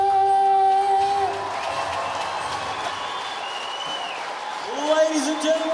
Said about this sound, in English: a huge round of applause to Ethan Hall of Hallmark Music Studios